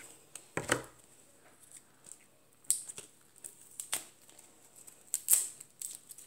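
Several sharp snipping and crunching sounds, scattered irregularly, close by, like scissors cutting through plastic packaging, with quiet pauses between cuts.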